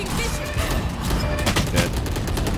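Dense gunfire in the video game Valorant, a continuous rattle of overlapping shots with sharp cracks throughout, loud and close.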